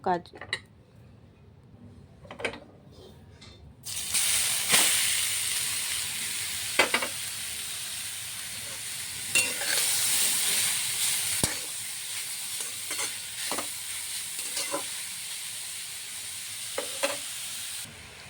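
Grated carrots frying in ghee for gajar halwa, a bright steady sizzle rising after a few seconds and continuing with occasional stirring scrapes and clinks, while a voice talks intermittently over it.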